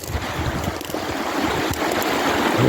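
Fast-flowing creek before a storm, heard as a steady, close wash of rushing water with a slight wind rumble, rising a little in loudness toward the end.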